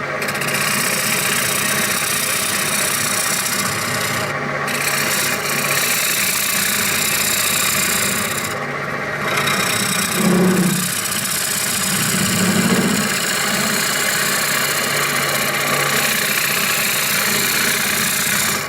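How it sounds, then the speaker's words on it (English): A wood lathe spins in reverse while a bowl is turned, giving a steady, continuous motor hum and whir throughout with faint tool scraping. "Going to go reverse turning on this so I can get to the back side without leaning over."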